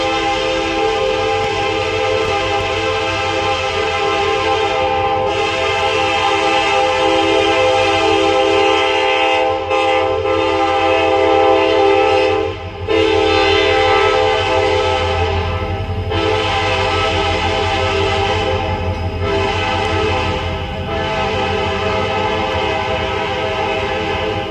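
A long freight train rolls steadily past at close range, heading north through Thomasville, Alabama, led by a former Soo Line SD60M locomotive; a loud, sustained multi-chime horn blares over the continuous rumble of wheels and cars, with no talking.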